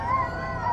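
A dog's howl rings out: one drawn-out, wavering tonal cry, loud and close, lasting under a second.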